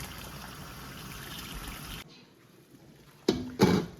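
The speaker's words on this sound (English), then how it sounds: "So first we're going to wash them in cold water" Peaches are washed in cold water. A steady trickling flow is followed by a quiet gap, then two short, louder splashes and pours near the end. Nobody speaks.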